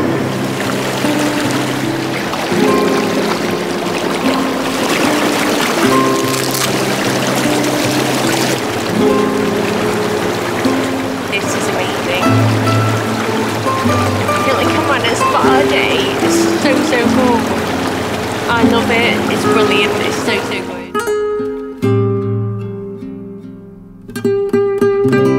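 Inflatable hot tub bubbles running, a loud continuous churning rush of water and air that cuts off abruptly near the end, leaving quiet with faint tones.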